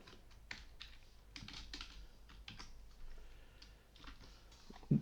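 Steady manual typing on a computer keyboard, a continuous close patter of soft key clicks over a faint room hum, ending with a louder tap.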